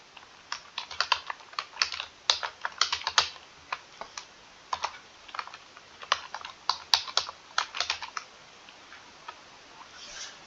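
Fast, irregular bursts of keystrokes on a computer keyboard in a quiet room, crisp clicks clustered in quick runs with short pauses between them.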